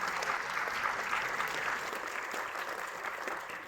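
An audience at an evening Hindi poetry recital in a camp claps steadily in a sustained round of applause, even and moderately distant.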